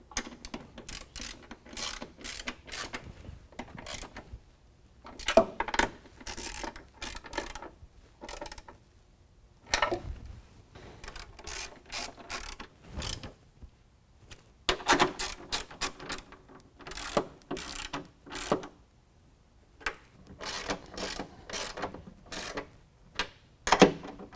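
Quick bursts of clicking from a 13mm ratchet snugging running board bracket bolts onto a 2019 Ram 1500 frame, close and sharp with short pauses between runs.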